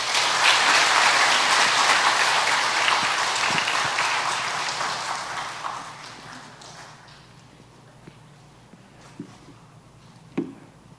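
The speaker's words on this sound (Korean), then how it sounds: "큰 격려의 박수 부탁드리겠습니다" A congregation at a Sunday church service applauds young members, a loud, full round of clapping that tapers away over several seconds and leaves a quiet room with a few stray knocks.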